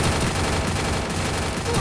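Dense, continuous rapid gunfire from the Free Fire battle royale game, a loud unbroken barrage of overlapping shots filling the whole stretch with no pauses.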